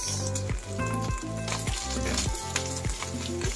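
Onions fry in a pan for baked spaghetti, a steady close sizzle broken by rhythmic stirring and scraping strokes, with tonal hum beneath.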